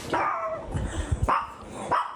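Coco, a pet dog, lets out several sharp barks in quick succession, close and fairly loud, with short pauses between them and no talking.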